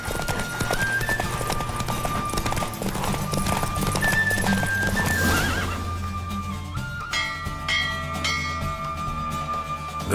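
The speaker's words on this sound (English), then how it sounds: "Don't spare the horse!" A horse gallops during a race in The Witcher 3: Wild Hunt, with rapid clip-clopping hooves and whinnying over game music, the hoofbeats easing in the second half.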